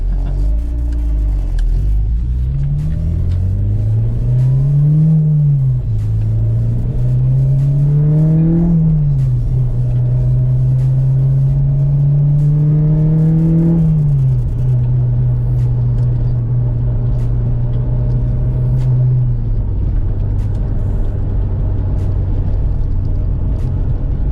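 An Acura RSX fitted with a new K-Tuned clutch master and slave cylinder drives on the road, its engine droning and rising through gear changes with a few revving climbs, heard from inside the car as a steady rumble.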